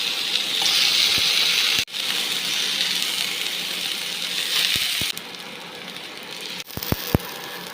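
Green chili deep frying in hot oil, a steady broad sizzle through most of the clip with a few sharp clicks and taps near the end as it dips briefly.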